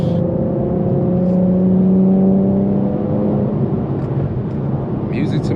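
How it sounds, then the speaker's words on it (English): A tuned E85 Infiniti Q50S exhaust drones loudly and steadily through a hard pull, its tone rising slightly before easing off, with an excited voice talking over it near the end. "Oh my gosh, I love this exhaust."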